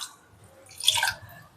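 Water is poured over lentils with chopped onion, tomato and green chili in a pressure cooker pot: a short, soft splash rising and fading within about half a second, otherwise quiet.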